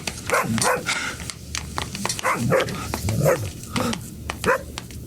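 A dog barks and yips several times in quick, uneven bursts close by, with whimpering in between.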